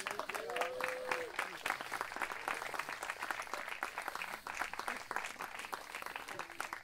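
An audience at an award ceremony applauds in a steady, dense stream of claps, with a short voice rising over the clapping early on.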